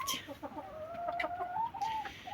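Chickens in a summer coop on a frosty day cluck and make soft rising calls close by, with a faint background hiss.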